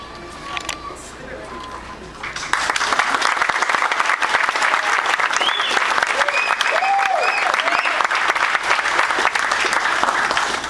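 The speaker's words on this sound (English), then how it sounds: "And I think we should always clap." Wedding guests break into loud, sustained applause after a brief quieter moment, clapping densely and evenly with cheers and a few whoops rising over the crowd.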